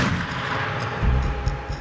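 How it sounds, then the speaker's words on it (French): Warning shots from a 25 mm cannon ring out during a military operation, a quick series of heavy, thudding reports over a constant engine-like rumble, loud and close. "le groupement effectue des tirs de sommation au canon de 25 mm."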